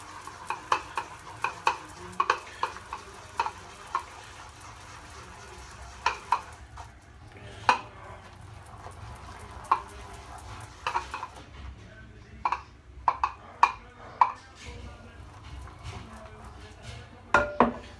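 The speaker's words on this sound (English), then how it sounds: "I'm just going to mix this a good bit more. See how thick and creamy we can get it" OSP shaving soap worked into a thick, creamy lather, with soft wet swirling and squelching over a low hum, broken by irregular sharp clicks and taps of brush or utensil against the bowl, fairly close, with no talking.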